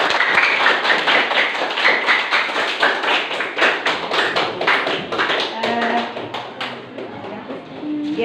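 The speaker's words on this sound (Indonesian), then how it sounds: "Iya, baik, beri tepuk tangan." An audience at an Indonesian school seminar claps together for several seconds, a dense patter of hand claps that stays fairly loud and steady before thinning slightly toward the end.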